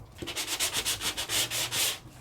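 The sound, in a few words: sanding color core paper with sandpaper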